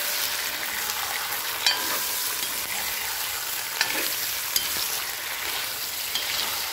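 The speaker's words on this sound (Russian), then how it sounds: "Хорошенько обжарим мясо." Steady crackling sizzle of chicken frying in a pan, with a few sharp pops and faint stirring scrapes throughout.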